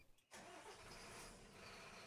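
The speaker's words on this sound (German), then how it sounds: "Original Motor Sounds" A vehicle engine cranks and catches in an emergency services game, jumping abruptly from near silence into a steady, loud running roar that holds to the end.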